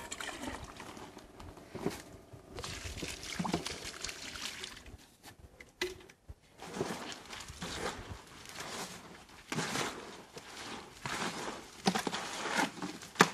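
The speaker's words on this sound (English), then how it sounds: "we're going to start adding water now, and we want a consistency a little bit like soft serve ice cream" Water poured into a mortar mix for a wood-fired oven stand gives a steady trickling, splashing pour that comes and goes over several seconds, close and moderately loud, with no talking.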